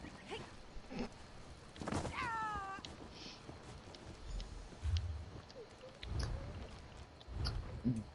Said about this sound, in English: Sorry, I was talking to my cat.